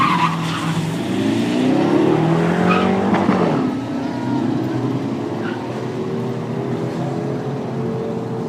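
A Holden Monaro's tires screech loudly as it launches off the line at a drag strip in Heathcote, the sustained squeal peaking over the first few seconds, then giving way to the engine's steady roar as the car pulls away.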